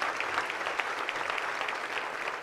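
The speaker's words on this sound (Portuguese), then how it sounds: "Vamos aplaudir mais, pessoal, por favor." A church congregation applauds during a worship service, a continuous even patter of many hands clapping close by, with no pauses across the short stretch.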